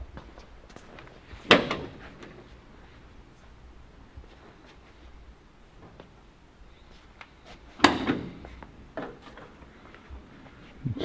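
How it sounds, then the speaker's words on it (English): Two sharp, loud mechanical clunks several seconds apart as the back door of a 1968 International Travelall is opened, over a quiet idle background with small knocks. "Open that back door up, would you please?"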